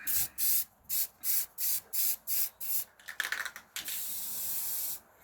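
A spray paint can hisses in eight short rhythmic bursts, then a few sputtering spurts from a partly clogged nozzle and one long steady spray, fairly close.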